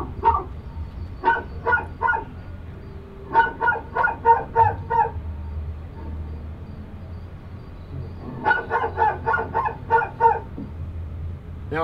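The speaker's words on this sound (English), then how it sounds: "trying to figure out where that dog barking was coming from" Dog barking from a Sony Acoustic Multi-Audio TV demo at CES 2020, coming in clustered bursts of rapid barks separated by pauses over a low room hum.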